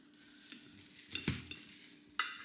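Food being stirred in a pan while it sizzles softly, a few faint utensil scrapes and clinks against the pan over a quiet frying hiss, close and without talk.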